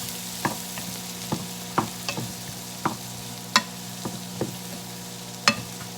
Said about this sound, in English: I'll give these a stir.